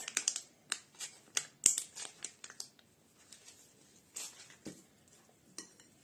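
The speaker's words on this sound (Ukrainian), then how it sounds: "Так, розмішали ми таку начинку для лаваша" A spoon stirring a cheese and tomato filling mixed with mayonnaise in a bowl, a lavash wrap stuffing: a series of close, sharp clinks and scrapes against the dish in an uneven rhythm, with no talk.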